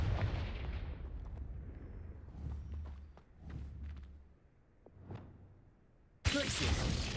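Spell effects from the Hogwarts Legacy video game, with an explosive Confringo blast among whooshes and impacts, the tail ending in a sudden loud burst of broadband noise.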